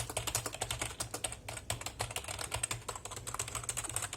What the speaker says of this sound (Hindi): मुझे अगर मैं टाइप करूँ तो अच्छा फील देता है।